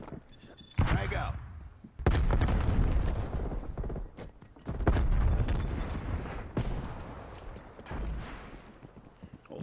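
Frag grenade blast and bursts of gunfire in an online first-person shooter match, with heavy booming impacts at intervals and rapid shots between them, loud and close.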